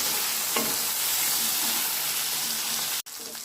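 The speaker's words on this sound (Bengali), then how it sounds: "তেল গরম হয়ে গেছে। হলুদ দিয়ে দিলাম। সিমগুলোকে হালকা ভেজে নেব।" Whole flat beans fry in hot oil with turmeric, giving a loud, steady close-up sizzle with faint crackles, briefly cut off near the end before resuming.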